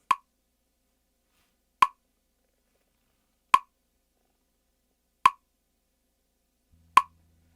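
Five crisp clicks land at a steady, slow tempo, evenly spaced with silence in between, like a metronome keeping time.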